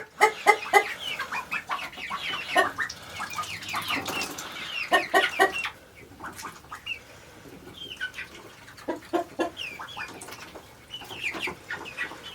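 A flock of hens clucks nearby in bursts on a homestead, some louder and closer, others softer, with short pauses between the rounds of clucking.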